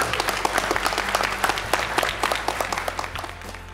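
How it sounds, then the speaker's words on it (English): An audience at a national conference gives a youth panel a sustained round of applause, dense steady clapping from a roomful of people close by. "Let's give them one final big round of applause."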